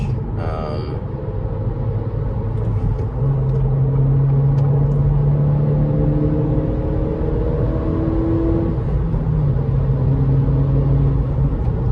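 A 2023 Acura Integra's turbocharged engine drones steadily while driving, a continuous loud rumble with a slowly shifting hum as revs change.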